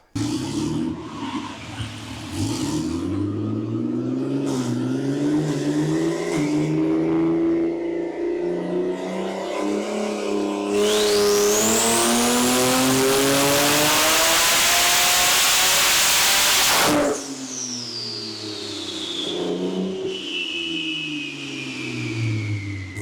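A turbocharged car fitted with 3D-printed turbo manifolds runs on a dyno, its engine revving up steadily through a long, loud pull to a sustained high-rpm roar, then cutting off abruptly before idling back down.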